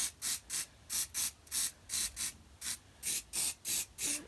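A spray paint can sprays onto a phone case masked with tape, about a dozen short, even hissing bursts in a steady rhythm, close and fairly soft, with no talk.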